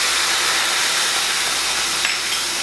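White wine boiling in a hot pan for a penne, sausage and pumpkin tomato bake, a steady close sizzling hiss with no talk, holding evenly across the whole stretch.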